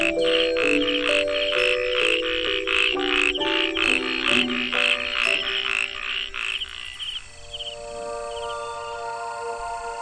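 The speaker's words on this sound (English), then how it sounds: "Resident frogs keep the summer season hopping with their whimsically husky croaks." A chorus of frogs in Kenting, Taiwan, croaks in a steady, husky rhythm, dense and continuous, with high insect-like trills layered through it.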